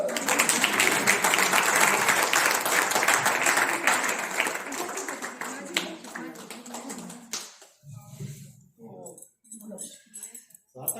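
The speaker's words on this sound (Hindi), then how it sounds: "तालियां बजा दो।" Loud audience applause at a poetry gathering in a Faridabad temple fills the first several seconds, then fades out as a voice begins speaking.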